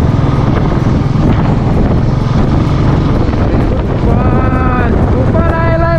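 A windy storm with rain roars without a break as heavy, close gusts buffet the microphone, and a voice cuts through near the end.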